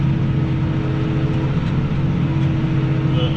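A tractor's engine runs with a steady, droning rumble while the machine keeps moving, loud and continuous for the whole stretch with no voices.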